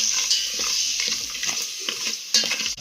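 Schezwan fried rice masala being stirred into hot oil in a pan, a continuous close sizzle with scraping spoon strokes and occasional clinks, no talking.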